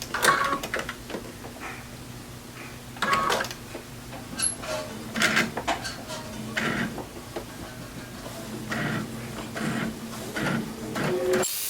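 A sewing machine stitches strips onto a quilt, running in several bursts of mechanical whirring with short pauses between them, up close with no voices.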